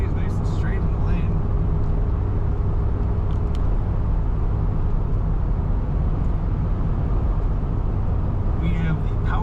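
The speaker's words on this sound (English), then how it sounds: "Nice quiet running, factory sounding truck." A 1989 Ford Bronco XLT truck driving along with a steady, even engine and road rumble from inside the cab, quiet and constant throughout with no gear changes heard.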